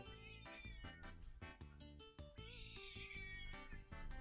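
A cat meows loudly and insistently up close, with several drawn-out, wavering calls in a row.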